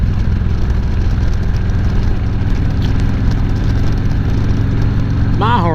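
A Harley-Davidson motorcycle engine idles steadily up close, a continuous low throbbing rumble held throughout with no revving.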